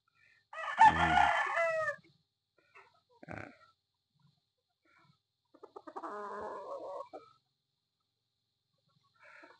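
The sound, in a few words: rooster crowing, Sweater cross Boston Roundhead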